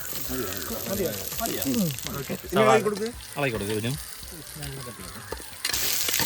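Sliced onions hit hot oil with whole spices in a frying pan while cooking chicken madhooth, and a steady sizzle runs beneath someone speaking, swelling louder near the end.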